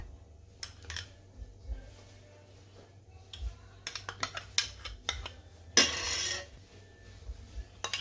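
Metal utensils clink and scrape against a bowl while a Thai spicy salad (yum) is tossed, giving scattered sharp taps and a brief louder rattle, close and with no talking.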